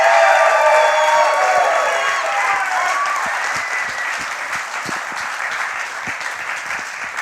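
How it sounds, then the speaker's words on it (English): Loud applause and cheering from a comedy club crowd after a stand-up set, with whoops and shouts at the start over dense clapping that slowly thins out. "Give yourself a round of applause."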